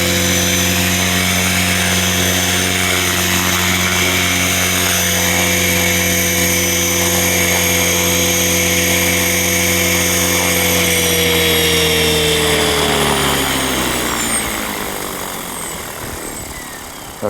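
A steady, loud whine from a close Align Trex 500X RC helicopter in flight, its rotor and motor tones holding level with a slight resonance before pitching down and fading toward the end.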